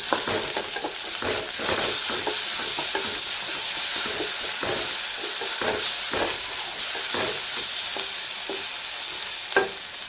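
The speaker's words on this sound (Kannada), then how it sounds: "ನಂತರ ಒಂದು ಸ್ಪೂನಷ್ಟು ಶುಂಠಿ ಬೆಳ್ಳುಳ್ಳಿ ಪೇಸ್ಟು ಅದನ್ನು ಸ್ವಲ್ಪ ಫ್ರೈ ಮಾಡ್ತೀವಿ" Ginger garlic paste fries in a pan over browned onion for restaurant-style chana masala, with a close, crackling sizzle and repeated scraping stirs throughout, no talking.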